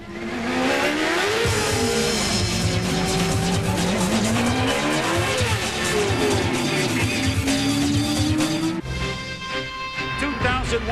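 Race cars from the CART Toyota Atlantic Series, sprint-racing open-wheelers with fuel-injected engines, roar past loudly with continuous high engine whine, rising and falling pitch as they shift and pass, and some tire squeal.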